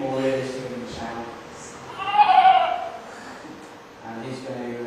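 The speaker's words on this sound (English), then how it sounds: "that's a sheep. Just make it a bit more realistic in the sound." A synthetic sheep bleat plays from a children's drawing and animation program, a single wavering bleat in the middle of the clip, with people talking before and after it.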